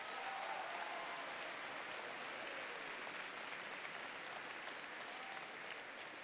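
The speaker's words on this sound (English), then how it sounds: "So give yourselves a round of applause." A large audience at the BT Young Scientist and Technology Exhibition 2017 opening ceremony claps steadily, a dense, even wash of applause that holds at the same level throughout, fairly distant and with no voices standing out.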